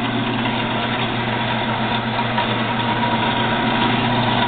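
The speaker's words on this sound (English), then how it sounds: "We have it powered up so you can watch it run." ENCO 7x12 horizontal bandsaw with hydraulic down feed runs continuously, a steady mechanical motor drone with a constant low hum, close and fairly loud with no talk.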